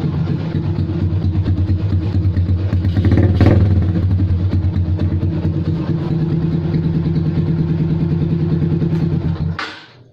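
A Yamaha Sniper Classic 135 motorcycle engine runs after a DSK CDI install, idling loudly and close with a steady chugging throb, a brief rev swell near the start, then cutting off at the end.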